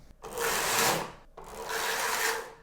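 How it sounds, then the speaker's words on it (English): Simple Knittax knitting machine carriage sliding across the needle bed to take stitches off onto waste yarn, two long rasping passes with a brief pause between, close and fairly loud with no talking. "And now I'm taking off the stitches on waste yarn."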